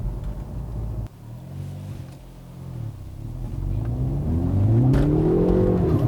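Hyundai Veloster N hot hatch driving with a steady engine drone that swells and climbs in pitch as it accelerates, broken by a sharp drop and a few brief crackles from the exhaust, heard from inside the car with no talking.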